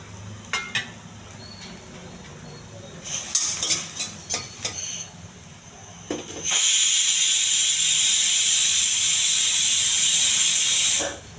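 Tomato hitting a hot pan of frying beans, a loud, steady sizzling hiss that bursts in after a few clinks and scrapes of stirring and lasts about five seconds before cutting off.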